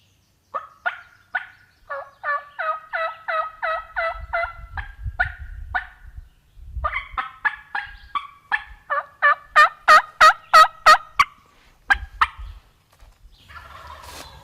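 A wild turkey gobbles repeatedly from some distance, rapid rattling bursts in several series, with faint low rustling between calls, outdoors during a hunt.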